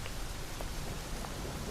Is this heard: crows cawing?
no